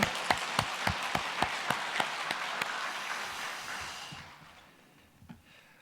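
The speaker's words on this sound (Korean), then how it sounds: "박수 한번 칠까요?" A congregation at a Wednesday morning seniors' church service claps together in a brief round. A few sharp, distinct claps ring out in a steady rhythm, then the applause thins and dies away into quiet room tone.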